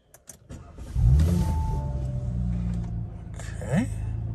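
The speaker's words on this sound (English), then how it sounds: "So what I'll do is I will get the windows down just slightly so you guys can hear what the car sounds like." Power windows on an Audi RS5 lower with a smooth electric motor whine in a parked car, a faint steady hum lasting a couple of seconds under low cabin rumble, after a few light clicks at the start.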